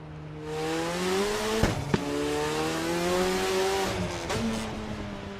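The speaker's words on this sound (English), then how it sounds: "Listen to this fucking car." A race car engine in the Project Motor Racing video game drones loud and steady at high revs, with a couple of sharp gear-shift blips and a brief lift, tyre noise underneath and no talking.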